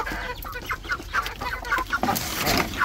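A laying hen clucks inside a chicken coop, giving a quick series of close, repeated clucks in an uneven rhythm.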